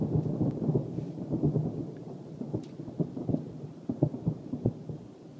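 Strange rumbling noise in the sky resembling thunder, heard as a continuous low roll with repeated swells and thumps that build and ease over a few seconds, fairly close and unaccompanied by speech.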